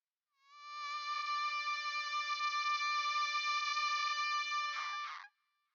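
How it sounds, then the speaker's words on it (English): A long held vocal note from an English cover of a song with a delay effect, swelling in and sustaining evenly before breaking into short repeating echoes as it cuts off. "a delay sounds like this"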